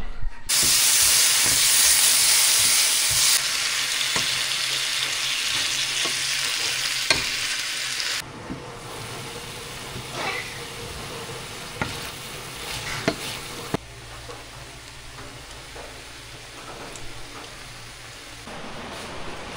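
Steady loud sizzling of scrambled eggs and bitter melon with garlic, onion and tomato frying in a pan, with occasional stirring scrapes, easing to a softer crackle later on.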